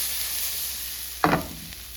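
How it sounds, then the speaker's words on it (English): Rice toasts in a pan with sautéed peppers and onions: a faint, even sizzle, broken by one short scraping burst from a stir. "I'm gonna go ahead and add my rice. Let that toast up a little bit."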